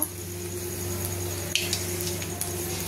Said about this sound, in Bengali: কড়াইতে সর্ষের তেল দিয়ে দিয়েছি বন্ধুরা, যেহেতু ঝিঙে ভাজা রান্না করবো আজকে। তার মধ্যে দিয়ে দেবো শুকনো লঙ্কা